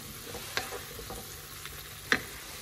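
Vermicelli with water cooks in a pan over a low flame, giving a soft, steady sizzle, broken by a couple of sharp utensil clinks as it is stirred.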